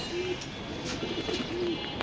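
Pigeons kept in a coop alongside chickens give a few soft, low coos at intervals over a steady background hum.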